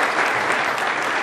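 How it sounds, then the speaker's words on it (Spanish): A crowd at the official presentation of a cycling team gives loud, dense, continuous applause that fills the whole brief moment. "un aplauso para el alemán"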